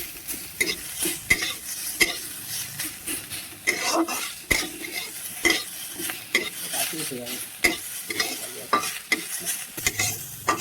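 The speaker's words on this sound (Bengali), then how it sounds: "কাঁচা পেঁয়াজটা একটুখানি ভালো করে নাড়িয়ে নিচ্ছি। ভালো করে একটুখানি ভেজে নেবেন।" Raw onion stirred and fried in a pan for a white potato curry: a steady sizzle under repeated scraping and clinking strokes of a spoon against the pan, fairly close, with no talking.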